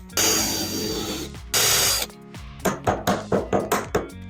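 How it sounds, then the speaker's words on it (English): A power drill with a 1/8 inch countersink bit bores a hole in a guitar pickguard, giving two sustained whirring bursts followed by a quick series of short, close, rhythmic drill pulses. "I have my 1/8 drill bit for this with a little bit of a countersink on it."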